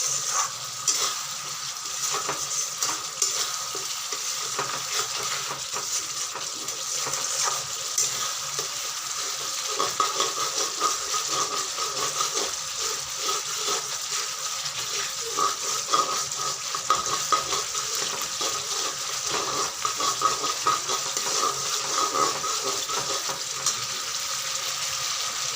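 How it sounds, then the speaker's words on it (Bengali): Spice paste for rohu fish curry stirred and fried in oil in a pan, a steady close sizzle with scraping stirs throughout, no talking. "তাই জন্য একটু ভালো করে কষাতে হবে, নেড়ে নেড়ে কষাতে হবে।"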